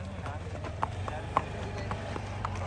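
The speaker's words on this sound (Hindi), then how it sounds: "मैंने घोड़े से रस्सी हटा दी है और अब क्लोई जी चल रही है अकेले" A Marwari stallion walking with a rider makes a steady clip-clop of hooves, a few sharper strikes standing out, moderately close over a low background rumble, while a person talks quietly at times.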